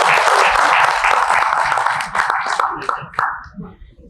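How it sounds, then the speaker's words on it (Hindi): Audience applause at a leadership talk, dense and loud for the first two seconds, then thinning into scattered claps and fading, with a voice briefly audible. "तालियों में कंजूसी मत।"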